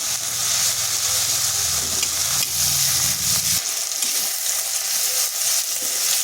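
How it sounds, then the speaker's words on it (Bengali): Ground ginger and garlic spice paste frying in a pan, giving a steady loud sizzle with stirring scrapes throughout and no talking. "মশলাটা একটু ভেজে নিচ্ছি যাতে তার কাঁচা গন্ধটা চলে যায়"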